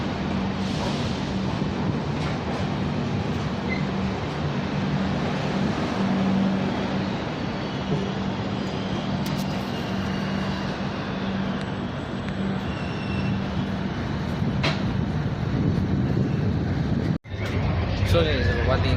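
Steady rumble and rolling hum inside the Shatabdi Express running from Mysuru to Chennai at moderate speed, continuous throughout with someone talking over it and a sharp brief dropout near the end.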